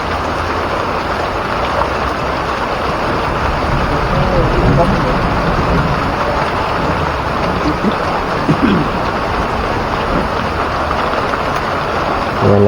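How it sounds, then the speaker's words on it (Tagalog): Dense, steady rain pours down beside a river in Butuan City with a constant broadband hiss, loud and close, while people talk underneath. "Yan lakas ng ulan mga idol"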